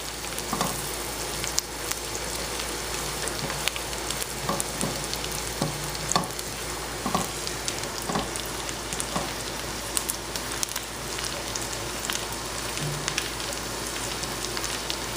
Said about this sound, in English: Just gonna fry it in butter.